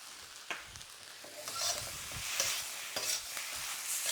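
Beef fried rice stir-fried in a hot wok over medium-high heat, with soy sauce and sesame oil added, giving close sizzling and frying hiss broken by repeated scraping and tossing strokes of the spatula.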